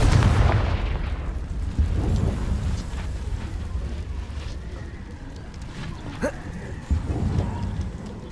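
A Confringo fire spell goes off in Hogwarts Legacy, a heavy boom at the start that rolls into a long rumbling, crackling tail, loud and full, with smaller pops and debris sounds trailing after.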